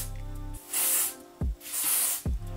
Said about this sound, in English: I'm just gonna spray my